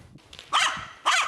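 A crow mimics a dog's bark with two sharp, bark-like calls, one in the middle and one at the end, loud and close, with a short quiet gap between them.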